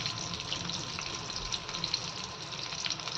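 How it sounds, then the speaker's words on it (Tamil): Curry leaves and spices sautéing in a pan for chicken curry, giving a steady, moderately loud hiss and sizzle with faint crackles and scraping throughout, no voices. "நல்லா வதக்கிக்கிறேங்க ஃப்ரெண்ட்ஸ்"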